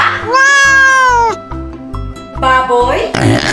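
A cat meows twice, one long drawn-out cry followed by a shorter one, loud and close over a soft, steady musical backing.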